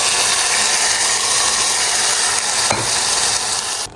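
Ground spice paste hisses and fries loudly in a hot tempering of crackled mustard seeds, cumin and curry leaves for a Nashik-style cluster bean dish, a dense steady sizzle with a sharp scrape near the end.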